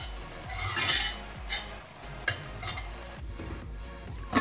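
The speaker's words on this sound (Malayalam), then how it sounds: "അപ്പോൾ ഇതിനകത്തേക്ക് നമുക്ക് ഈ അരപ്പ് ചേർത്ത് കൊടുക്കാം" Ground coconut and garlic paste with turmeric is scraped and stirred into a cooking pan, with soft utensil clinks and scrapes in an irregular rhythm at close range and no talk.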